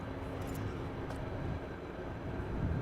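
A Delta Airbus A330 lands at Amsterdam Schiphol Airport with its thrust reversers deployed. A steady, distant, broadband roar rumbles evenly throughout, with no voices.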